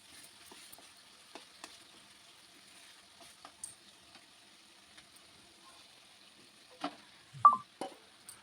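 Potatoes drop into hot oil in a pan, giving a soft steady sizzle with a few sharp spatters and stirring clatters, rising to a louder burst of frying near the end.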